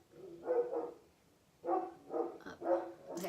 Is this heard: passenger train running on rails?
no